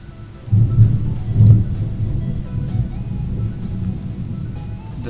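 Loud rolling thunder rumbles low and heavy, swelling in a couple of surges early on, with steady rain beneath it throughout.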